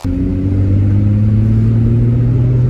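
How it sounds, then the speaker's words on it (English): A Lexus IS300 engine drones under load while driving, a loud, steady low growl with rising pitch as it revs, heard close and alone without talk. "the car sounds intimidating"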